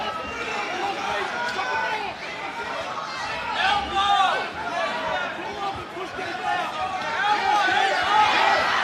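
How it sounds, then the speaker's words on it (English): Spectators at an amateur fight crowd roar and shout in a loud, rolling hubbub that swells and dips, with voices talking over the noise. "you hear the crowd yelling for elbows in here"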